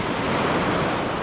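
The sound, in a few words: ocean waves surging at the beach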